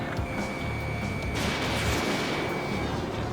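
Aircraft weapons firing in the combat flight game Ace Combat 7: a dense, continuous barrage of booming, crackling shots over steady engine roar, loud throughout, with a sharp tonal lock-on beep running through the middle.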